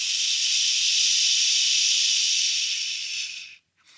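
A steady steam hiss from the storybook engine Percy's dampened fire, loud and continuous for about three and a half seconds before cutting off abruptly into silence.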